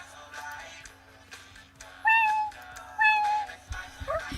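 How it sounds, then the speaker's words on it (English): A pet cat gives two clear, close meows about a second apart over a steady low indoor hum, with faint shuffling noises in between. "this is my cat"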